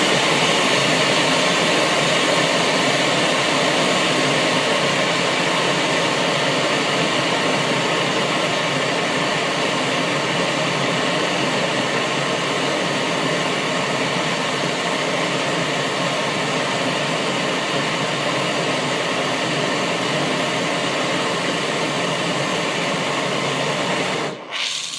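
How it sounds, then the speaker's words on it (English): Glass torch flame heating the back seam of a glass cat sculpture, a steady loud roaring hiss that holds unbroken for about twenty-five seconds before cutting off abruptly at the end. "and we'll give it a blast of heat."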